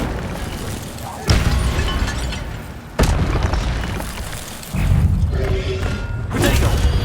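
Incendio fire spells cast in Hogwarts Legacy, three heavy whooshing bursts that start abruptly and roar on over a constant game rumble, loud and close.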